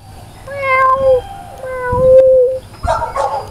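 A cat meows in a series of drawn-out, wavering calls, loud and close, with a brief rougher caterwaul at the end and no talking over it.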